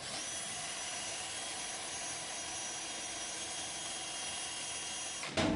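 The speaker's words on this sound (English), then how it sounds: "We're going to put it on the drill," A power drill spins a small homemade generator, a steady loud whirring hum that holds evenly for several seconds before cutting off.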